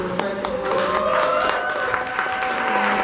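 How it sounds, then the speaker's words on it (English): Applause from an evening expo crowd for Black-owned business owners, scattered claps under a sustained tonal hum with some background voices, moderately loud throughout. "please give a round of applause to everyone here this evening that's a Black-owned business owner"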